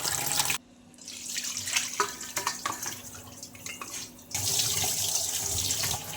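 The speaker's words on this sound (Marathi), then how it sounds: "चिकन स्वच्छ धुवून घ्यायचं 2 ते 3 पाण्याने." Raw chicken being rinsed under a running kitchen tap, water splashing steadily into a sink with brief pauses and changes in flow, close and fairly loud.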